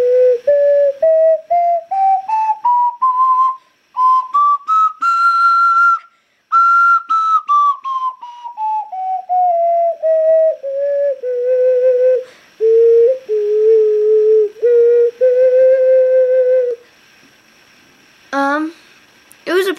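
A C-major scale played on a small Zelda-style ocarina, clear, breathy whistle-like notes stepping up and then back down, each tongued separately at close range, with a short pause near the end.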